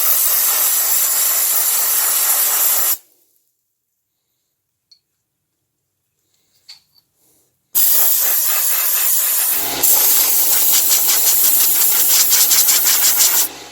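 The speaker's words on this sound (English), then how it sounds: "now the barrel and the little thingamajig here are ready to go and be bead blasted" A bead blaster working on a gun barrel and a small part, a loud harsh hissing spray that runs, cuts to silence with faint clicks, then resumes with a steady motor hum underneath.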